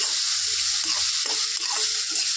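Fish head curry with khar added is stirred in a pan, producing a continuous hissing sizzle with faint scrapes from the utensil, close and steady for a couple of seconds.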